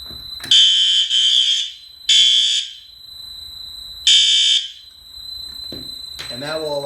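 Exterior horn strobe fire alarm, very loud: four sharp, piercing tonal honks in an uneven pattern, each about half a second long, with a steady high electronic whine beneath them and a brief voice at the end.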